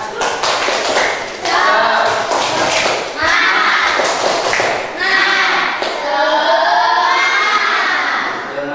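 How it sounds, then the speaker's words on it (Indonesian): A primary school class chants the rhythmic 'tepuk semangat' spirit clap, children's voices shouting in unison with sharp patterned claps in a lively, loud burst that fills the room. "tepuk semangat"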